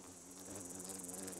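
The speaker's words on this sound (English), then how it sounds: "There's a good mosquito." A mosquito creature in the video game Fallout 4 gives off a thin, high insect buzz, faint and steady, whining continuously without talk.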